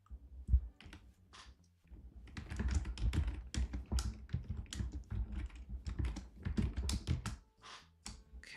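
Rapid, steady clatter of typing on a computer keyboard, close and fairly loud, with brief pauses between bursts of keystrokes.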